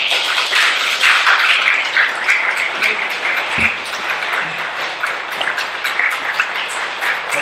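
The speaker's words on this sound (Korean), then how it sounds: "우리 큰 박수로 환영해 주시면 감사하겠습니다" Audience applause welcoming a pastor to the pulpit at a Sunday church service, a steady wash of many hands clapping throughout, fairly loud and unbroken.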